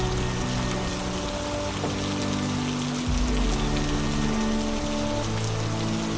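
Steady rain falls in a beekeeping adventure video game, a dense continuous patter of drops spread evenly across the whole stretch, with low tonal game music droning underneath and no voices.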